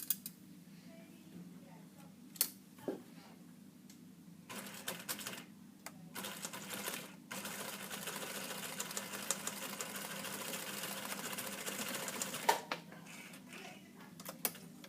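Sewing machine stitching fabric, a faint rapid mechanical whir running for several seconds with a few sharper clicks and knocks around it, no voices.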